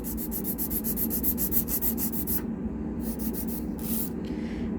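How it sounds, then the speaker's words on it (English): A hand file rasps along the full length of a metal piece in steady, rhythmic strokes, loud and close, with no talk. "if you move your file on the whole length, holding it at one end, your filing will be more efficient"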